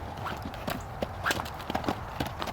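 Hooves of a horse named Tomba Shivers thud in an uneven clip-clop rhythm as it canters, fairly faint and distant, with a trainer's voice calling encouragement in the background.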